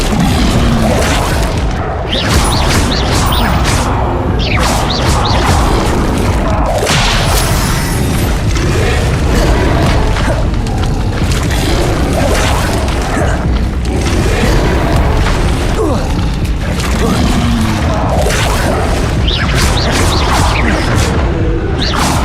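Repeated Incendio fire spell casts in Hogwarts Legacy, loud whooshing fiery bursts and booms recurring every few seconds over a dense, busy game soundscape.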